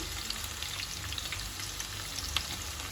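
Garlic and finely chopped green chilli fry in hot oil with a bright, continuous crackling sizzle, small pops spattering throughout at close range with no talking.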